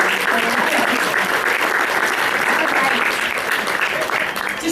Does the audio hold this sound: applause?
yes